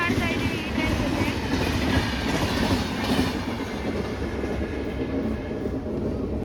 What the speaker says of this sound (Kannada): ನೋಡಿ ಇದು Karnataka express KSR Bengaluru city ಜಂಕ್ಷನ್ನಿಂದ new ಡೆಲ್ಲಿಗೆ ಹೋಗ್ತಾ ಇದೆ. ಹೆವಿ ಸ್ಪೀಡಲ್ಲಿ ಕ್ರಾಸ್ ಮಾಡ್ತಾ ಇದ್ದೀವಿ ಈ ಟ್ರೈನ್ ಜೊತೆ.